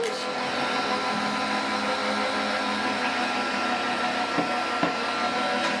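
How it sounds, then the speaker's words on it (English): A heat gun blows steadily and close as it dries a background on a handmade card, producing a continuous loud whooshing roar with a few faint clicks near the end. "let's just use the heat gun a little bit to help dry our background"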